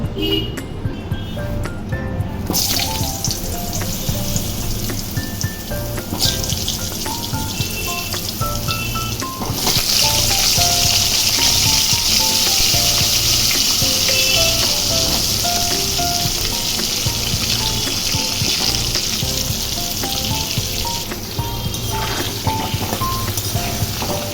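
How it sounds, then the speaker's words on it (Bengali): Sliced potatoes fry in hot oil for a Bengali home-style chicken dish, giving a loud, continuous sizzle that stays steady throughout, with light clatter from the pan. "এবার এক এক করে আলুগুলো ভেজে নেব"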